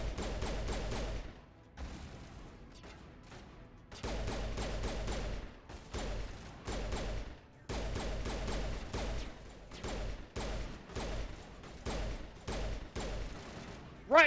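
Bursts of rapid gunfire from a first-person video game, several loud volleys separated by short pauses, with clicks and mechanical handling between them and no talking.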